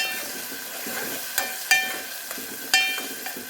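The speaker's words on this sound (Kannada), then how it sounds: "ಈರುಳ್ಳಿ ಸ್ವಲ್ಪ ಫ್ರೈ ಆಗಬೇಕು." Onions fry in a pan with a soft continuous sizzle, broken by several sharp clinks of a spoon stirring against the metal, close and moderately quiet with no talk.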